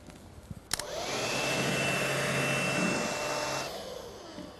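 Cordless vacuum cleaner, such as a Dyson DC59 Animal, picking up fine dust on a hard floor: a few clicks, then the motor spins up into a loud steady whine that holds for several seconds before winding down.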